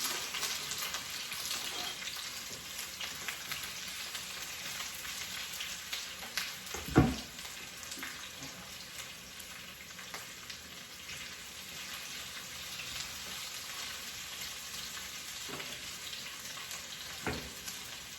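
Vegetables frying in a pan, a steady bright sizzle with a sharp burst as something hits the hot oil or is stirred, plus a later knock; no talking over it.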